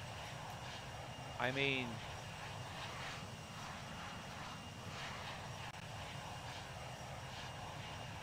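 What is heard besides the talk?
airplane taking off, Microsoft Flight Simulator video game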